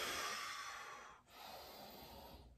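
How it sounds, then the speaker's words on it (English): A slow, deep breath in and out during a home breathing exercise, soft and airy, heard alone and close with a brief pause between the inhale and exhale. "you wanna continue doing the deep breathing exercise"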